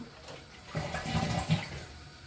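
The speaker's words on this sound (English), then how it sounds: "Now let's flush it." Dual flush toilet flushing just after its fill valve was replaced, a sudden surge of rushing water about halfway through that swirls and drains at moderate volume, close by and without talk.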